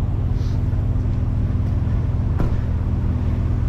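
Steady high whine over a deep droning engine hum from a Scania V8 S770 truck, heard from inside the cab as a continuous, fairly loud tone with no break.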